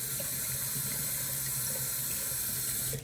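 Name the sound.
tap water running over alum block while shaving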